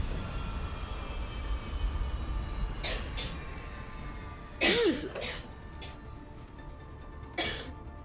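A single cough bursts out about halfway through, set against a steady low hum of background noise, with a few other faint short sounds scattered around it.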